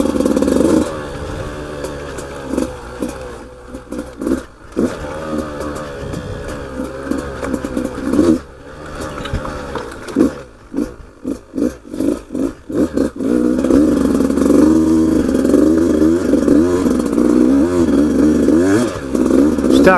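A 2019 Beta 200RR dirt bike rides a bumpy, hand-cleared trail on a stock tire, its engine droning steadily close by with choppy throttle blips and gaps in the middle, then a sustained loud pull to the end.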